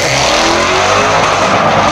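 Jaguar XE Project 8 with a 600-horsepower V8 accelerating hard away, a loud, continuous engine roar rising in pitch across the whole two seconds, with faint tyre noise and no talk.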